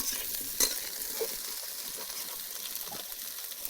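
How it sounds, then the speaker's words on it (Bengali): Chopped jackfruit frying in a pan at home, giving a continuous soft sizzle with a few stirring clinks near the start, quiet and close, with no talk. "এবার ইঁচড়গুলো ভেজে নেব, ভালো করে ভাজতে হবে ইঁচড়টাও।"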